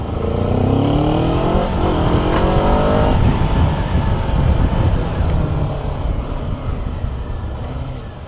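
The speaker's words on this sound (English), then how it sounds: "So I leave the combustion engine on now because we're going onto the highway now, and the battery will charge." A 2024 Kawasaki Z7 Hybrid motorcycle runs on its combustion engine while riding toward a highway, a loud close engine note rising through the revs, with a brief gear shift and steady wind rush.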